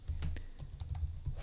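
Typing on a computer keyboard, a quick irregular run of soft, close key clicks with no talk.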